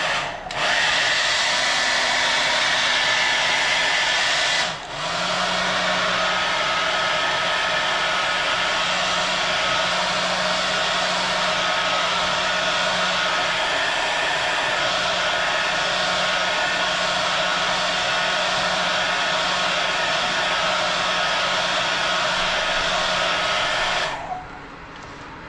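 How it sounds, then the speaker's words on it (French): A hair dryer blows steadily at close range for about twenty seconds, drying acrylic paint on a radio-controlled car body, with a brief dip early on before it resumes and then cuts off near the end. "se mettre un petit coup de sèche-cheveux"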